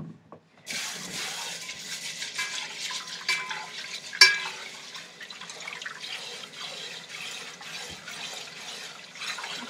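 Rice, two cups, is swished and stirred by hand in a bowl of water, producing continuous wet sloshing and trickling close up, with one brief louder clatter partway through.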